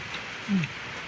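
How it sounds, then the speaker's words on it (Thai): Steady, soft rain falls outdoors as a quiet, continuous hiss, with a brief low thump near the middle. "ฝนตกแล้ว"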